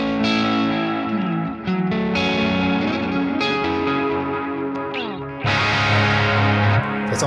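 Electric guitar run through a Sonicake Matribox II Pro multi-effects unit with a boost pedal engaged, playing continuous distorted chords and riffs with chorus and echo, loud and dense throughout without talking.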